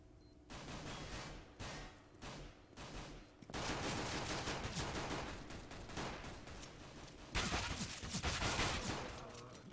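Gunfire in Counter-Strike: Global Offensive during a 2v2 tournament match, loud rapid bursts and sustained automatic fire in clustered volleys with brief gaps between them.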